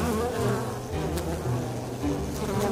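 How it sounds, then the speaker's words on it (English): A colony of angry bees buzzes steadily and loudly up close, a dense droning swarm with layered wingbeat tones that never lets up and has no voices over it. "tend a colony of angry bees"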